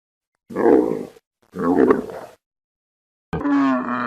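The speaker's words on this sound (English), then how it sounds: "Camel." A camel grunts in three deep, rough bursts, the first two long and guttural with a pause between, the last shorter and more tonal, loud and close with silence around them.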